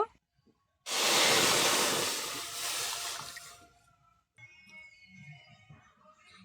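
Milk pours into a bowl of semolina for kheer jalebi batter, a loud close splashing rush lasting about three seconds, then softer handling noises.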